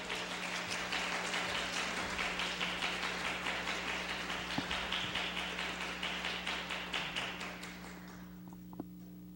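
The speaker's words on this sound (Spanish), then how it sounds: "Un aplauso para él, por favor." Audience applause at an evening church service, steady dense clapping from a crowd for several seconds before thinning out and fading near the end, with a low hum underneath.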